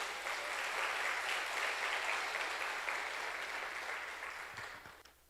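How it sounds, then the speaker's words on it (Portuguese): A church congregation applauds with dense, sustained clapping that stays full for several seconds, then thins and fades out near the end. "Dê um aplauso ao Senhor."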